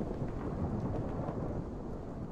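Thunderstorm in the Minecraft HBM Nuclear Tech mod during an F5 tornado, a steady, dense roar of rain and rumbling thunder that fills the whole span with no talk.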